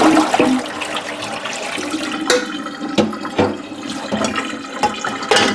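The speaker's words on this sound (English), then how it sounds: "I'm going to give it one more rinse," Water runs and splashes as dried pears are rinsed. The flow is a steady, fairly loud gush with a few sharper splashes and clinks, heard close up without talk.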